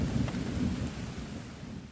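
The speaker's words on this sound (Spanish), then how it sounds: "finas gotas de lluvia empezaban a caer de nuevo" Fine raindrops falling again, a steady soft hiss of rain over a low rumbling wash, continuous and fairly even throughout with no voices.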